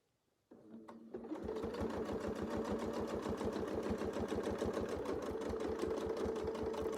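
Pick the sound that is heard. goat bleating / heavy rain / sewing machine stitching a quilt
sewing machine stitching a quilt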